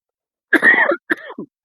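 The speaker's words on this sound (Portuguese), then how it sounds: "apesar de tanta tosse aí no meio do caminho" Someone coughs twice in a quiet room, a harsh burst followed by a shorter hack with a brief throaty tail, loud and close with silence on either side.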